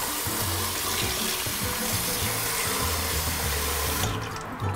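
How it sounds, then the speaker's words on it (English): About three cups of water pour steadily into a stock pot over bay leaves for New England fish chowder, a loud continuous splashing gush that stops abruptly near the end. "And we're gonna add about 3 cups of water to this."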